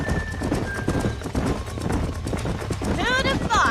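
Hooves of a galloping horse in the Red Dead Redemption video game, a steady clip-clop rhythm under music and game sound, ending with a loud whinny.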